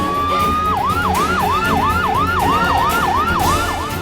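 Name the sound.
ambulance siren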